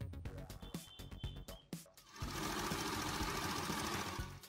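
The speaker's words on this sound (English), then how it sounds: "I will sew here using straight stitch" Close sewing machine running a straight stitch through non-stretch fabric for a baby turban headband, first in short stop-start bursts, then a steady continuous rapid whirring run.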